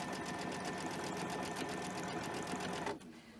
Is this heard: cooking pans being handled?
no